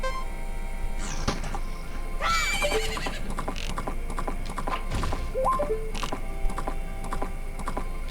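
Epona the horse in the Zelda Majora's Mask video game whinnies loudly near the start, followed by a steady clip-clop of hooves and chiming game sound effects over a continuous background.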